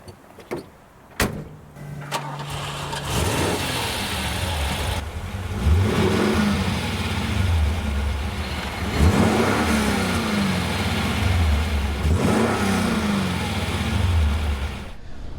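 An Alfa Romeo Montreal's engine cranks and starts after a door clunk, then settles into a rumbling idle and repeated revs that rise and fall as it pulls away.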